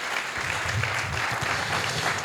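An award ceremony audience at a Green World event in September 2024 breaks into sustained, dense applause, a loud, steady roar of many hands clapping together throughout.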